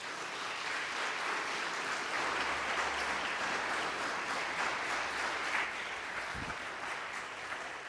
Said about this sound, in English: I appreciate that applause for our speaker